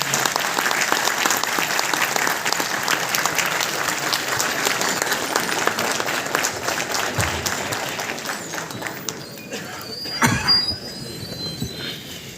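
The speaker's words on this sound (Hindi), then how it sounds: "आप सभी जोरदार तालियों के साथ स्वागत कीजिए" Loud, sustained applause from a large audience at a national electropathy conference, dense clapping filling the room and slowly thinning toward the end with a few louder bursts.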